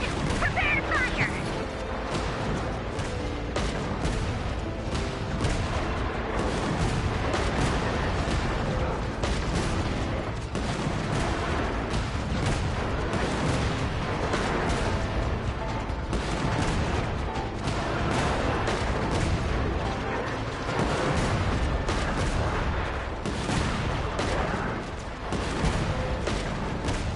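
Cannons fire again and again in Genshin Impact, booming in a dense, continuous barrage with clattering impacts that never let up, and a voice speaks now and then beneath the noise.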